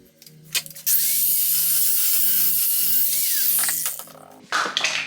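An angle grinder cuts off the lower ball joint on a VW Caddy 2K, a loud continuous grinding roar lasting about three seconds between brief clanks and handling knocks, close up.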